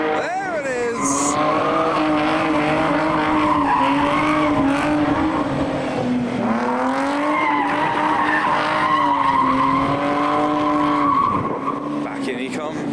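A car drifts in a long sustained tire squeal, loud and close, the pitch wavering as the engine revs rise and fall and the slide continues for many seconds.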